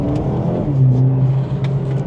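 A Mercedes A35 AMG pulling hard out of a junction in comfort mode, with a close, loud engine drone rising steadily in pitch as it accelerates over a couple of seconds.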